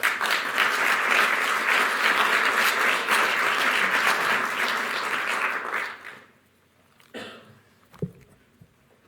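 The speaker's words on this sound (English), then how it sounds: "Please give him a warm round of applause." A large summit audience gives a warm round of applause for about six seconds, dense and loud, before it cuts off into quiet room noise with a few scattered sounds.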